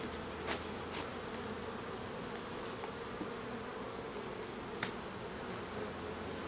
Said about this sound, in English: Bees aren't really too happy